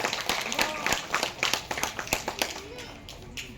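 Scattered claps from an audience at a Shri Jagannath temple trust ceremony during an Odisha festival, sharp uneven strikes repeating over a few seconds beneath someone speaking over a loudspeaker.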